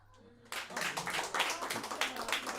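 A live audience at a French stand-up show applauds, the clapping starting abruptly after a brief quiet moment and continuing as a dense, lively patter of many hands until the end.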